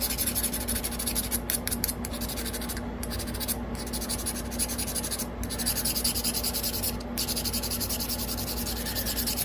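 Steady close rasping of a flint edge being ground during flintknapping, a continuous gritty scraping with brief pauses and no talking.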